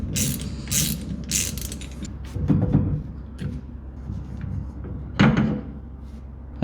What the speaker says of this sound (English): I'm gonna bust this nut off with the high torque impact